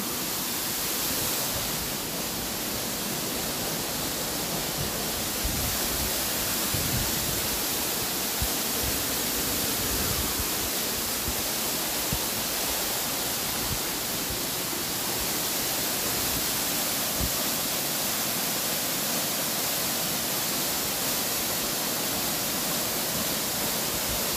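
Pasalan Falls in Zamboanguita, Negros Oriental, sends up a constant, dense roar of falling water that stays loud and unbroken throughout, with no voices.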